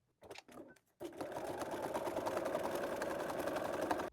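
A sewing machine stitches a seam through thick quilted fabric for a tote bag, a few short bursts first, then a steady, continuous near whirring run.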